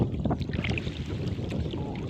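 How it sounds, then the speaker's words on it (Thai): Strong wind buffets the microphone on a small fishing boat out on a flooded river, with gusty rumbling and choppy water noise, plus a few brief knocks and rattles, heard close up and without talk. "ลมก็แรงด้วยนะครับ"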